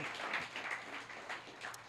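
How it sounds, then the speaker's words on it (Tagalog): A church congregation claps during a sermon, a short burst of scattered, uneven hand claps that rises and falls over about two seconds. "Pumalakpak sa Panginoon"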